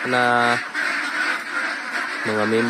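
Ducks on a Philippine duck farm give two loud, close, harsh honking quacks, one at the start and one near the end, with a murmur of voices and farm background between them.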